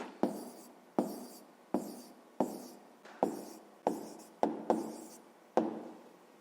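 A pen writes an answer of figures on paper for a sixth-grade maths percentage exercise, nine short separate scratching strokes, each with a sharp onset fading quickly, close and quiet with no talking.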